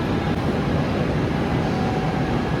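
A metro train at a station gives off a steady, loud broadband rumble and roar that fills the whole stretch without letting up, with no voices.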